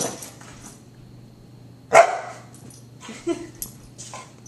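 A dog gives a single sharp bark, followed by soft whimpers and yips against a quiet background hum.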